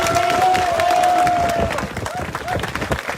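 Applause and cheering from a crowd at a Rajgarh (Churu) ceremony honoring Tokyo 2020 Olympic medal winners, loud and dense, with a whistle or tonal cheer early and crowd babble mixed in.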